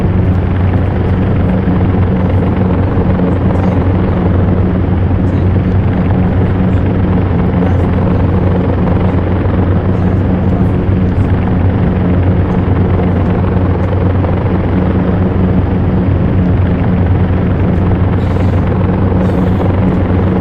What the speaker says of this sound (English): the engines have a certain rumble to them that I haven't really heard on any other planes